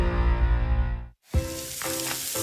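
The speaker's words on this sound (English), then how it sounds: "That's the sound of James adding long-lasting Gain scent boosters to his laundry this morning." Gain scent booster beads are poured into laundry with a dense, rushing granular pour. It breaks off for a moment, then a second, slightly looser pour follows.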